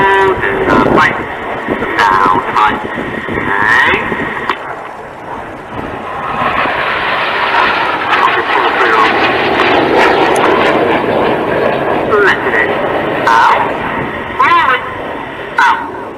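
Red Arrows jets flying at the Duxford Battle of Britain airshow, a loud continuous engine roar passing overhead while a commentator talks throughout.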